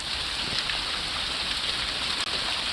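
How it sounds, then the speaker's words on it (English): Heavy rain mixed with hail pours down in a dense, steady hiss of drops striking surfaces nearby, loud and unbroken for the whole stretch, with no one talking. "it's hailing. It's also just a lot of rain too"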